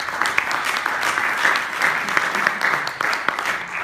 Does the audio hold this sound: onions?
no